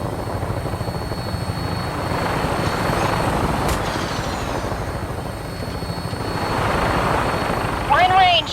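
A vertibird aircraft in Fallout 4 flies nearby with a steady whirring rotor drone that swells and fades, and a brief chirp near the end.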